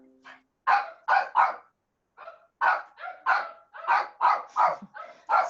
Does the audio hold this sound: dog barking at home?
yes